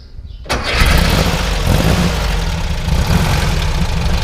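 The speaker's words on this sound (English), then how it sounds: "So we're going ahead and start it up." A cold 1974 Volkswagen Thing engine cranks and catches after a brief quiet moment, then settles into a loud, steady idle close by with no one talking.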